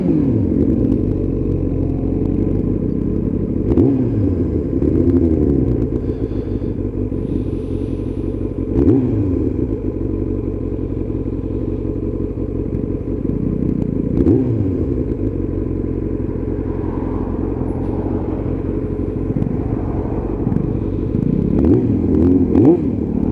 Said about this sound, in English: listening to the sound of the bike